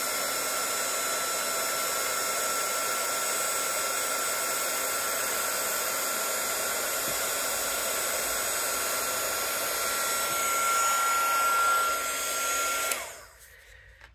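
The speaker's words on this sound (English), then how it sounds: "now we're gonna heat it again. We're gonna do the same thing. When we see it get shiny, we're gonna move it, move the embossing tool" An embossing heat tool blows steadily as it melts embossing powder on a colored flower, a loud continuous whooshing roar that holds for about thirteen seconds, then cuts off abruptly into quiet.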